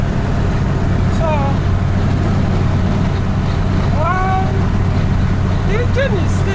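An old Peugeot 505 GL runs along an expressway with a steady, loud engine and road drone inside the car. Faint horn-like tones rise briefly over the constant rumble.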